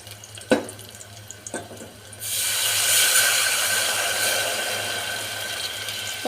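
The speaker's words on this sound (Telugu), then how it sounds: "కొబ్బరి పాలు వేసుకొని" Coconut milk pours into a cooking pot after a couple of sharp knocks, then a steady, dense rush of liquid runs continuously, close and fairly loud.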